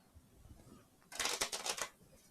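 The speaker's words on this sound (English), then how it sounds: "Let me do a little extra shuffle here." A deck of cards being shuffled during a Kingdom Death Monster board game session, a short burst of rapid riffling flutter that follows quiet background.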